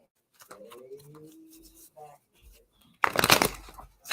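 Voices talk briefly, then a loud burst of rapid riffling snaps in as a deck of cards is shuffled, close by.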